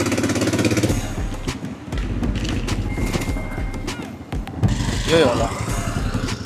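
A motorbike engine runs steadily underneath a short greeting, a continuous close rumble on a ride out to a barbecue corner, with wind and road noise and a brief surge in the middle.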